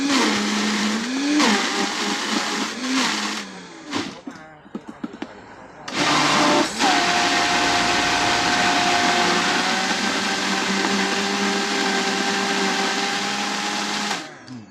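An electric blender whirs loudly while blending an iced coffee smoothie, with a sustained motor drone and a steady high tone after a brief pause and restart, running continuously until it winds down at the end.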